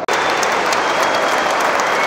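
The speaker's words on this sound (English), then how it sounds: "Every single person to clap him." Stadium crowd claps warmly for Joe Willock as he is substituted off at a Newcastle United versus Sheffield United match, a dense, loud, sustained wash of applause filling the ground.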